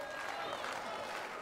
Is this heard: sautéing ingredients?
no